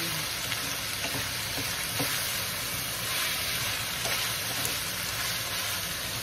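Meat and garlic frying in a pan for Bicol express give a dense, continuous sizzle and spatter, with faint scattered ticks of stirring and no voices.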